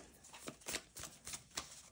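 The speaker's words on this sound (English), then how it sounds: "So let's give this a shuffle." A brand-new tarot deck being shuffled by hand, giving a run of soft riffling card bursts spaced through a quiet room with no talking.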